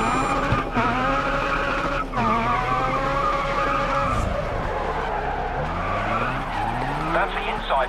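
A Mazda RX-7 races in the GRID Autosport video game, its engine droning loudly and continuously while the tires squeal and skid through the corners, with the engine pitch rising and falling across the run.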